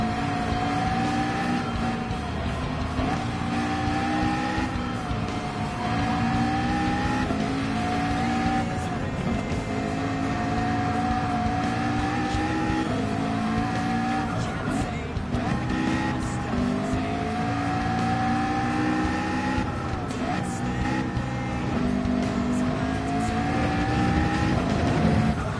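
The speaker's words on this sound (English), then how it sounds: "And then you're going to downshift down to gear 2." Race car engine in a racing video game on the Ring, roaring loud and steady with rising and falling pitch as it revs and downshifts through gears, with brief tire squeal.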